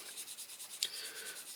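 Fingertip rubbing gritty Autosol polish over a die-cast Dinky Toys Morris 1100 model car, soft rhythmic scrubbing strokes up close with one brief sharper scrape midway, faint and quiet.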